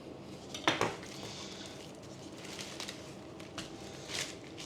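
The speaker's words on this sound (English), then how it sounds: "And now you can just trace around with your knife." A knife traces around pastry for a garlic chicken Wellington, giving a few faint, scattered scrapes and light clicks against the board, quiet and intermittent with no voices.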